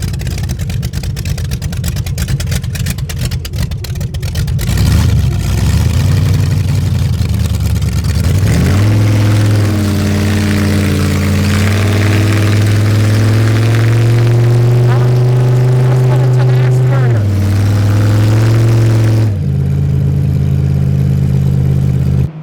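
A custom 1934 Studebaker Dictator set up for the drag strip revs its engine up close and loud: rough idle first, then a climb into a strong sustained rumble that drops back briefly near the end.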